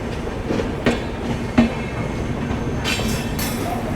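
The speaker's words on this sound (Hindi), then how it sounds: "अपनी ट्रेन बढ़ रही है टुवर्ड्स बनारस होते हुए ज्ञानपुर रोड की ओर" Vibhuti Express 13047 running toward Banaras, heard from aboard as a steady rumble of wheels on rails with a few distinct clacks and a brighter hiss near the end.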